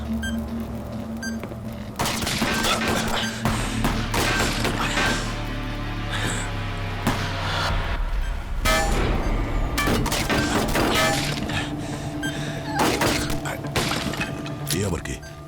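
Rapid bursts of gunfire and sharp cracks ring out during a tense action scene from the CID television series, mixed with dramatic background music, crashes and voices speaking over the shots.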